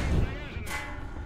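A tank gun fires once in a war video game: a single short, sharp blast partway through, heard under a voice talking.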